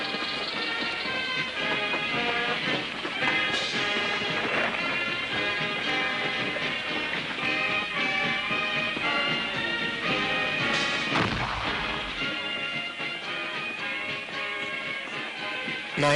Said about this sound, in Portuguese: o ponto alto das festividades do dia era uma exibição de ativos fogos de artifício.